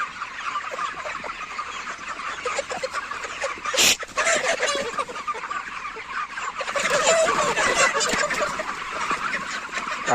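Broiler chickens in a poultry shed cluck and squawk continuously as a flock while being slowly herded, a dense nearby chorus with a sharp louder squawk partway through.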